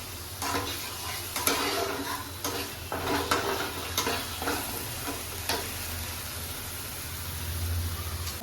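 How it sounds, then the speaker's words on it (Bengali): Ginger-cumin spice paste being fried and stirred in a pan for a doi katla fish curry, a continuous close sizzle broken by repeated spatula scrapes and knocks against the pan. "এবার আমি মশলাটা ওখানে কষছি।"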